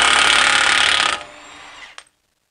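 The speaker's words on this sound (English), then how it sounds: "It really helps to have one of these impact guns because it just makes quick work of this." An impact gun loudly rattles a 36 mm 12-point oil pan bolt loose on a BMW E83 X3, a dense buzzing burst lasting about a second, then spinning down with a faint clink before silence.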